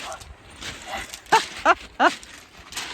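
A few dogs outdoors on a walk bark three times in quick succession, sharp, mid-distance yaps standing out over soft ambient background noise.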